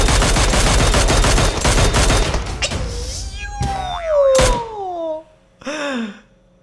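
Gunfire in PUBG Mobile inside a building, a loud close burst of rapid shots followed by a few separate bangs, with a voice exclaiming between them.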